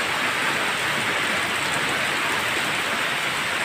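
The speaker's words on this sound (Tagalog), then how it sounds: "Mukhang hindi nagbibiro ang ulan mga kalingap." Heavy rain pours down steadily in a rural Philippine setting where a bamboo nipa hut is being built, making a constant, even hiss with no breaks and no voices.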